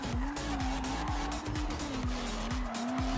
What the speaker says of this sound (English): Dobar, dobar, dobar drift